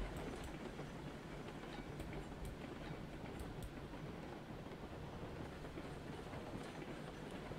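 A Class 70 steam locomotive in the RailRoads Online game, rumbling steadily with a continuous rolling, clattering drone and occasional faint hissing, fairly quiet and alone without talk.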